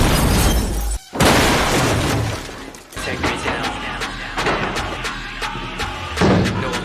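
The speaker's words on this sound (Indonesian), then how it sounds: "Namun tiba-tiba saja dari arah belakang terjadi sebuah ledakan" Sudden explosion blast followed by crashing, shattering debris and a series of sharp impacts, loud and close, with a brief gap of silence near the start.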